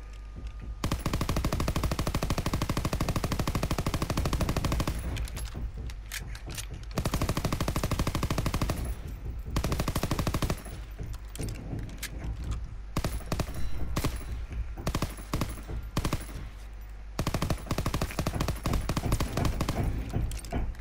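Submachine gun fire in Call of Duty WW2, loud dense bursts of automatic shots repeating across the stretch with brief gaps between volleys, sharp and echoing in a game battle mix.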